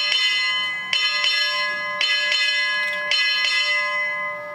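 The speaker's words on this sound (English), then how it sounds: "strike 8 bells" A ship's bell strikes eight bells in four quick pairs of clear metallic clangs, each ringing on with a long decay, loud and near with no voices.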